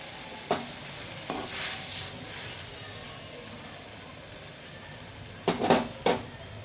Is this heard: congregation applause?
no